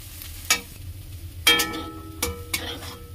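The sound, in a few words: frying pol chatu mushrooms in a pan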